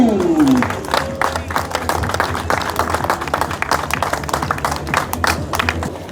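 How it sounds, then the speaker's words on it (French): Spectators applaud at a cross-country mountain bike race in Marseille Luminy, with dense, steady clapping and crowd noise running throughout. A low rising engine-like tone opens the scene, and a constant low hum sits underneath. "Et le public, je vous ai entendu applaudir."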